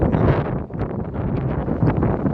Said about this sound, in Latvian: Vējš ļoti liels.